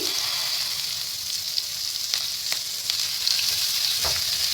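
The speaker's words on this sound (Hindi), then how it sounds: "आंच तेज रखेंगे और जल्दी से इसको कर लेंगे फ्राई" Cabbage and other vegetables sizzle steadily in a hot pan over high heat with a constant hiss, punctuated by occasional clinks and scrapes of stirring.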